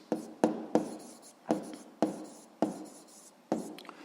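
Pen strokes on paper during a physics lesson, arriving as six or seven short, close scratchy bursts spaced about half a second apart, each fading quickly into quiet.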